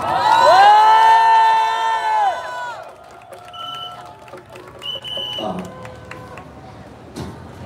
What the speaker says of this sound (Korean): 여러분들 큰 박수가 필요합니다